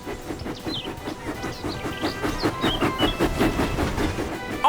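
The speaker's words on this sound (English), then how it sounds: "James puffed proudly into the steamworks" A cartoon steam engine from Thomas & Friends puffs along the rails with a rhythmic chuffing beat over a rumbling, clattering base. The sound is close and moderately loud and grows slightly stronger toward the end.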